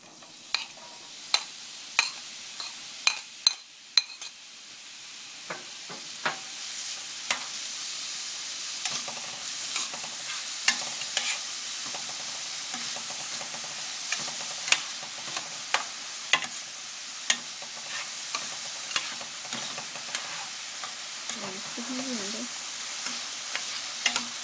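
Onion frying in oil in a pan, a soft continuous sizzle with repeated scraping stirs and clicks of a utensil, fairly quiet and close, no voices.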